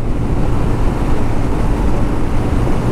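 A 2020 Suzuki Gixxer FI ABS motorcycle engine pulling under load, a loud, steady low rumble mixed with wind roar that carries on unbroken throughout.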